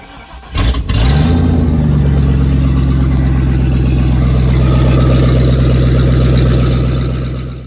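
A Ford Grand Marquis engine fitted with an added turbocharger cranks and fires up after a brief start, then settles into a loud, steady idle close by for several seconds with no talking.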